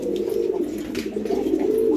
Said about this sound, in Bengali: কবুতরে ডাক যখন ডাকে